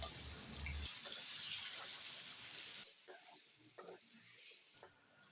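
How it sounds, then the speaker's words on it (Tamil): Masala-marinated chicken hits hot oil in a kadai with a quick, loud sizzle, then settles into quieter frying broken by scrapes and clatters of stirring, with a voice faintly audible in the background. "இப்போ மசாலா மிக்ஸ் பண்ண சிக்கனை சேர்த்துட்டு நல்லா கிளறி விட்டுக்கலாம்."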